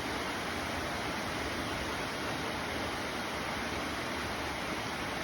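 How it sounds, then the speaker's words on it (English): Rain on a garage roof makes a steady, dense broadband hiss with no breaks, sitting close and even from start to finish without any voice over it. "Now that hissing noise you hear in the background is, I'm afraid, rain on garage roof."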